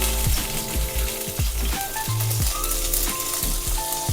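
Eggs frying in a pan for egg biryani, a loud continuous sizzle with crackling and some scraping clatter from stirring, close up, with no voices.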